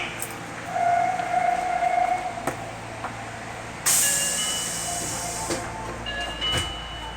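A Nagoya Municipal Subway Higashiyama Line 5050 series train departs Nagoya Station toward Takabata, with an electronic door chime, a burst of air hiss, then rising motor whine and rolling rumble in an enclosed platform.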